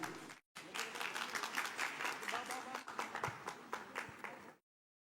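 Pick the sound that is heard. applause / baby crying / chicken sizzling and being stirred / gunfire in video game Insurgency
applause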